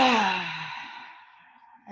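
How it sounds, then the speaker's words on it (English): One deep, drawn-out exhaled breath, close and audible, fades slowly to near silence, and a short new intake of air follows at the very end. "big breath."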